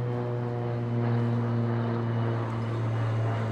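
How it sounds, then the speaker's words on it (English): A seaplane's propeller engine drones steadily overhead in Ballard, Seattle, a loud sustained hum with a rich stack of engine harmonics that swells slightly midway and stays constant throughout. "Oh, a seaplane."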